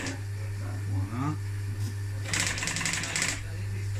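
Sewing machine topstitching the assembled seat back cover of a Citroën C15, a rapid mechanical stitching burst late on over a steady low hum, with brief talk nearby earlier.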